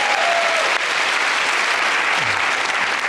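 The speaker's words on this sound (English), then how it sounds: "Good round of applause." A television studio audience applauds in a loud, sustained wash of clapping that carries on evenly throughout.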